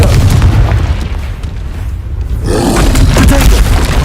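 A loud Confringo blasting spell explodes in Hogwarts Legacy, with a booming, roaring burst up front, a brief dip, then a second heavy blast and rumble that sustains to the end.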